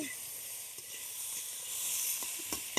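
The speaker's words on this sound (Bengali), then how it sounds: "সবজিগুলো একটু ফ্রাই করে নিচ্ছি বটবটি আলু ঝিঙে একটু ফ্রাই করে নিচ্ছি" Flat beans, potato and ridge gourd fry in a pan, giving a steady, fairly quiet sizzle with a few small pops and crackles near the end.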